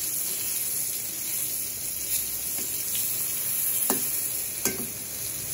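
Eggplant (brinjal) fries in oil in a pan, a steady close sizzling hiss punctuated by several short utensil clicks and scrapes as the pieces are turned, with no voices.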